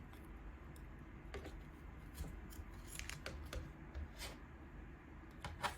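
Scissors snip through crochet yarn in a series of quiet, crisp cuts, irregularly spaced over a low, steady room hum.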